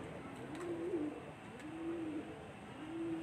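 Small pigeons coo softly in a repeated low rolling call, three drawn-out phrases spaced evenly over a faint background hum.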